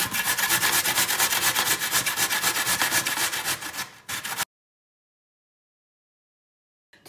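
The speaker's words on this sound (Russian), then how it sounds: "Берем картофель и трем его в крупную терку." Potatoes are grated on a coarse grater, a steady close rhythmic rasping of quick repeated strokes that slows and stops, followed by silence.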